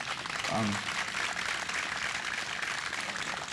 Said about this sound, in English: can I just get a round of applause again for all the speakers?